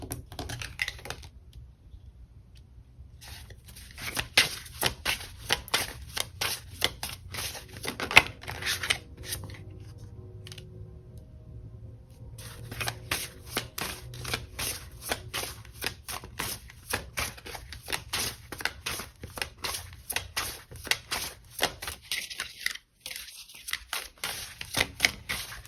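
Tarot cards being handled and shuffled during a reading, giving a long run of crisp, rapid riffling flicks and clicks up close, with brief quieter pauses partway through and no talking.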